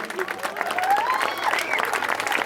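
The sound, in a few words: audience applause at cricket match prize ceremony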